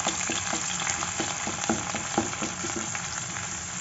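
Chopped onions frying in hot oil, a dense continuous sizzle with crackles and light stirring scrapes, close and steady with no voices.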